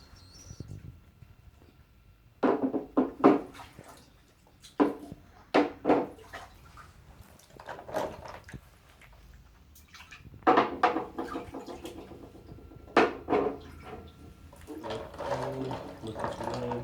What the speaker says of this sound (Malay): langkah seterusnya kita masukkan batu sungai dahulu kat bahagian tapaknya